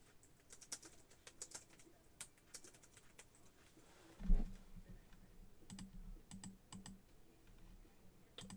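Keys tapped on a computer keyboard in quick, irregular bursts, soft and close, with one heavier thump midway and a few scattered clicks after.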